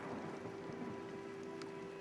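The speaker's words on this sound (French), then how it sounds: "il fait mauvais pour la sortie là, il pleut" Steady rainfall in the video game Oblivion Remastered, a dense, even hiss of drops that holds at one level throughout with no voices over it.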